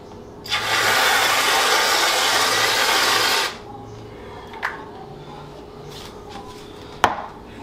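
An extra-creamy pumpkin spice milkshake topped with whipped cream is shaken hard in a closed container. It makes a loud, dense rushing rattle for about three seconds, then goes quiet apart from a few small knocks and one sharp clack.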